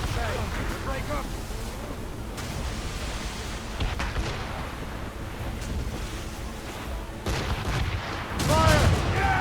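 Ship cannons boom in a naval battle in Assassin's Creed Rogue, a few heavy blasts spaced apart over rolling waves and wind, with shouting voices at the start and end.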